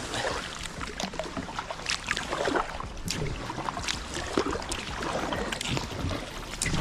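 A kayak moves across open water toward an island, with continuous splashing and swishing paddle strokes close by, water trickling off the blades, and a light wind wash underneath.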